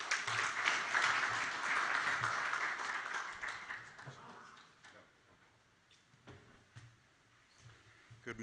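An audience at a Namibia Biomass Industry Group event applauds the chairperson, loud clapping for about four seconds that then fades to scattered claps and room noise.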